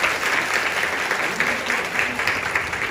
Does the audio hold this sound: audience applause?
yes